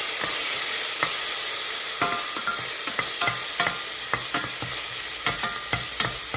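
Garlic sizzling in hot avocado oil with a dash of sesame oil, steady frying hiss punctuated by repeated scrapes and clacks as it is stirred in the pan, close and alone.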